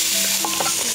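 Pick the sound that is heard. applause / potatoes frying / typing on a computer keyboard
potatoes frying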